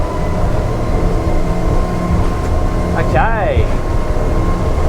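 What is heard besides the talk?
Jeanneau Merry Fisher 1095 motorboat engine speeding up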